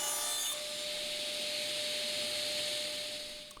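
Table saw cutting a scrap piece of plywood in half, a loud, continuous, close whine and rasp of the blade through the wood that fades slightly at the end of the cut.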